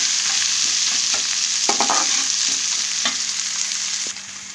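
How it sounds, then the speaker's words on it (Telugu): Mutton pieces and onions fry in a pan with a loud, steady, close sizzle, punctuated by a few stirring scrapes and knocks, and the hiss eases slightly at the very end. "ఒకసారి ముక్కలన్నీ ఫ్రై అవుతున్నాయి"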